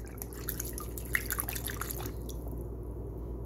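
Water from a tap runs over freshly harvested home-grown broccoli, with soft drips and splashes over a steady low hum, fairly quiet and close, the splashing easing off near the end.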